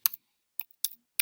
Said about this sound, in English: I'm just going to type a few other words over here in my bullet